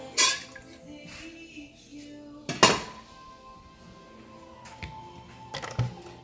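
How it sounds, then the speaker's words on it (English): Metal pots and utensils clank in a kitchen sink while boiled eggs are handled for draining into a colander, with a few sharp knocks scattered among quieter clinks and trickles. "So we are going to drain them into a colander."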